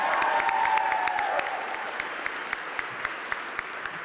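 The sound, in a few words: audience applause for legislators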